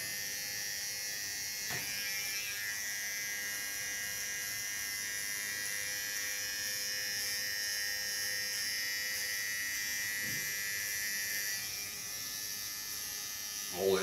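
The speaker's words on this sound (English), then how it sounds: "And I'm going to fill in this side shave and nape shave." An electric hair clipper buzzes steadily and close while shaving the side and nape of a head in an undercut style, a continuous high hum with small shifts in pitch as it moves.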